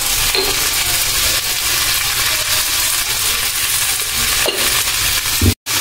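Onions, tomatoes, garlic and dried chillies, including Kashmiri chillies, with rock salt and a little tamarind, sautéing in a pan: a loud, steady, close sizzle with occasional stirring scrapes.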